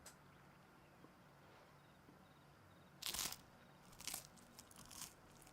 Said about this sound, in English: that bread sounds so good